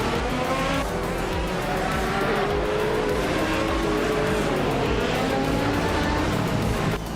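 Race cars in a racing video game roar together in a steady, loud, continuous engine drone, with overlapping revving tones, occasional tire squeal and faint commentary underneath.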